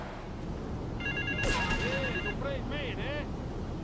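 A payphone in the video game Grand Theft Auto rings with repeated electronic trills in short bursts, heard over a constant wind-like ambient wash with no speech.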